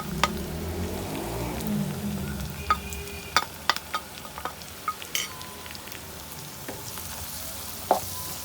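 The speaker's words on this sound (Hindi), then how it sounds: "एक मिनट भूनते हैं तमाम मसाले को" Spices for karela pyaz fry in a pan with a steady close sizzle, while a spoon scrapes and taps against the pan in irregular clicks.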